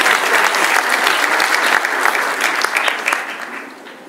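An audience at a public health event applauds loudly, a thick burst of clapping that holds for a few seconds and then tapers off.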